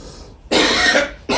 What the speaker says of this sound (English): Stifling a naggy cough